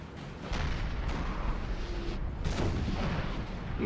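Artillery fire in a Napoleonic-era Total War battle: a continuous rumbling din of cannon booms and distant gunfire, with a sharp louder blast near the middle, dense and steady throughout with no talk.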